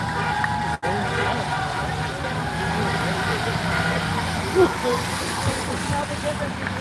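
An old Chevy truck idles nearby at a packed street protest, its low steady engine rumble running continuously beneath crowd chatter and nearby voices.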